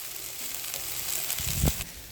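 Okra coated in spice paste sizzles gently in a pan over a low gas flame, a soft steady frying hiss with a brief louder crackle near the end.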